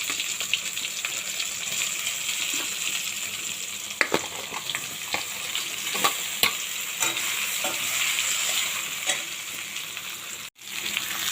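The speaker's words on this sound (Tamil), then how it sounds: "இந்த வெண்டைக்காயை அப்படியே எடுத்து எண்ணெயில் போட்டுக்கணும்." Okra dropped into hot oil sizzles steadily in a pan, with a continuous bright frying hiss and scattered pops and stirring scrapes, close and unaccompanied by speech.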